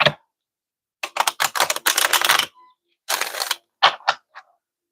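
Tarot cards are shuffled in quick bursts of crisp riffling and slapping, loud and close, in three separate flurries with brief silent gaps between them.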